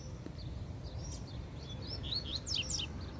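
Coleiro birds (Sporophila caerulescens) give thin chirps and short rising and falling whistled calls. The calls come outdoors near a cage, over a constant low background rumble, and grow louder and quicker toward the end.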